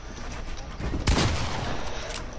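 A single loud gunshot in a video game cracks out sharply amid steady game ambience, with a brief rumbling tail after the bang.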